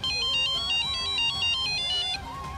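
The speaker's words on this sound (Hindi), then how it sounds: "जीजू फोन उठाओ, जीजू फोन उठाओ।" A phone ringtone plays loud and close in a Hindi TV drama scene, a repeating electronic melody of bright looping tones that cuts off near the end, with no one speaking.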